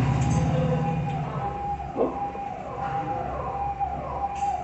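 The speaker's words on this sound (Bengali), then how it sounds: "একটা অ্যাম্বুলেন্স মানে গেল ওই দিক দিয়ে" A faint wailing ambulance siren drifts by in the distance over low traffic hum, its tone rising and falling steadily.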